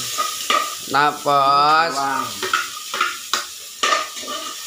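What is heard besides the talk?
onions and garlic sizzling while stirred in a pan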